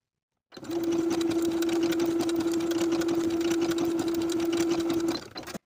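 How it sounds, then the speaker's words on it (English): A sewing machine stitches a 5/8 inch seam in knit fabric for a dress, a close, steady mechanical whir running continuously for several seconds before stopping. "Pin and sew with a 5/8 inch seam allowance."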